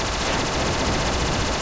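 Automatic gunfire from a GTA arcade-machine shooter game, a dense continuous rattle of rapid shots at a steady loud level with no talking.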